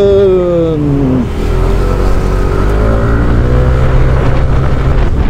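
A Yamaha Tricity 155 scooter engine revs loudly and close, its pitch dipping then climbing steadily as the scooter speeds up, with no talking.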